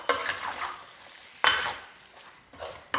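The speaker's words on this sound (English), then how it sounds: "I'm stirring this all up nicely." Stirring a pan of prawn bhuna with mushrooms, red pepper and a squeeze of lemon juice, heard as a few soft scraping strokes with a light sizzle beneath, close and fairly quiet, with no talking.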